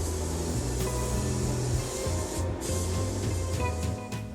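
A spray gun applies 2K primer to the body of an HQ Holden under restoration, making a continuous close hiss with a steady compressor or machine hum underneath.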